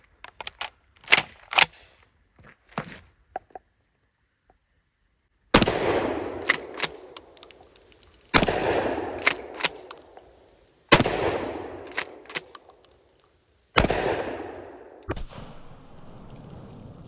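Shotgun firing all-plastic shells outdoors: four loud, sharp blasts spaced a few seconds apart, each trailing off in a long echo, preceded by quieter clicks and handling of the gun.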